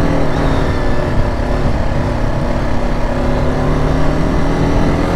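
BMW G310 motorcycle on a ride around a helipad circuit, its engine droning steadily and loud throughout, a continuous close rumble with wind noise and no pauses.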